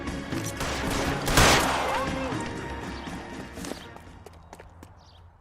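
Gunfire in the video game L.A. Noire: a loud, close burst of overlapping shots peaks early and then thins into scattered cracks and clatter, with voices speaking over it.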